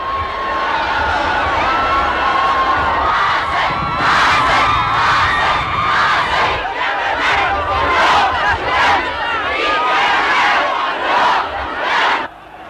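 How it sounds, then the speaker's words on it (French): A huge, frenzied crowd at Nasser's funeral roars and shouts without pause, a dense wall of loud cheering, wailing cries and overlapping voices filling every moment. "La foule maintenant n'est qu'un immense délire que rien ne peut endiguer."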